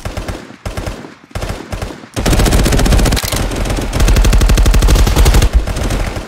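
AK-47 fire in the video game Contractors: a few short bursts, then sustained loud rapid automatic fire with a brief pause and more rattling shots, close and dominant.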